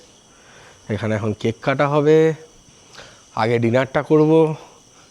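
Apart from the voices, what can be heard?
crickets chirping at night in Dooars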